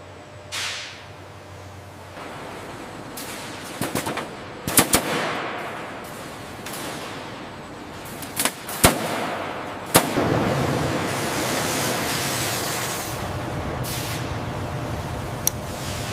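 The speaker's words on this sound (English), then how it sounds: "Proceed with riveting, ensure flushness." A pneumatic rivet gun drives rivets into aircraft parts in a WWII Japanese Zero fighter factory, firing sharp, loud rattling bursts at irregular intervals over a steady background of workshop noise.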